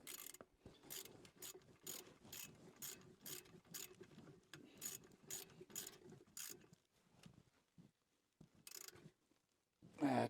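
A ratchet tightening a part on a 1979 Dodge W150 Roundup truck, quick clicking strokes repeated in a steady rhythm, close and fairly quiet, with short pauses between bursts.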